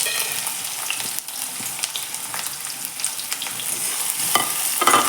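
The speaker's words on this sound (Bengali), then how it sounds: "পেঁয়াজটা একটু হালকা লালচে করে ভেজে নিতে হবে" Chopped onion sizzles steadily in hot oil with cardamom, cloves and cinnamon, a bright continuous frying hiss broken by a few stirring scrapes, close and loud with no talking.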